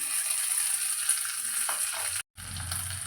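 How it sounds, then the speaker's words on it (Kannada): Garlic and curry leaves frying in hot oil in a pan, a loud steady sizzle and crackle throughout, with a brief cut near the end before the sizzling resumes. "ಇವಾಗ ಬೆಳ್ಳುಳ್ಳಿ ಮತ್ತು ಕರಿಬೇವು ಹಾಕ್ತಾ ಇದ್ದೀನಿ"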